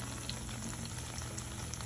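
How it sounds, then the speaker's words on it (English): Plantains fry in hot oil in a Jamaican home kitchen, a soft, steady sizzle and bubbling crackle that runs alone and fairly quiet throughout. "I'm just frying my plantains."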